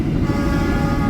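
A CC206 diesel locomotive pulling the KA Bima executive train gives a brief, continuous, loud low roar under acceleration, heard from the first passenger car coupled right behind it, with no voices.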